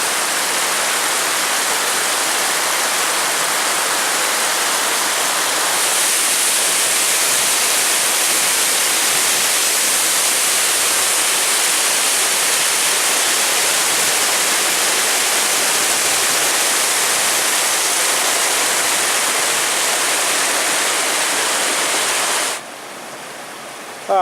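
Spray Falls, a waterfall at Pictured Rocks in Michigan, roars as a loud, continuous broadband rush that stays steady until a sudden drop near the end.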